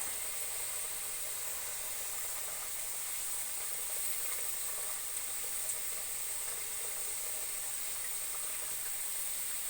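Food frying in a pan gives a steady, faint, even sizzle with a constant bright hiss, unbroken and without talk.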